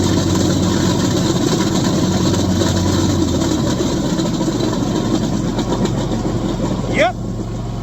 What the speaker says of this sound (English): That's a failed spindle.